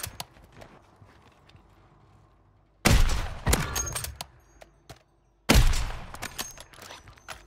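Two loud, sharp sniper rifle shots ring out in a Warzone match, each followed by a short echoing tail, separated by a few seconds of quiet background with faint distant noise.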